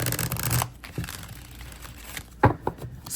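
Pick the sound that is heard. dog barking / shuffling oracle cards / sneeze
shuffling oracle cards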